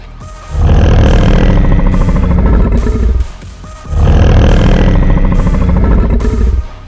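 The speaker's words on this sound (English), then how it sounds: "That was the call, and now the growl." Growl of a retro dinosaur in the Dinosaur Simulator video game, delivered as two long, loud, rumbling roars of roughly three seconds each with a brief pause between them, heard alone.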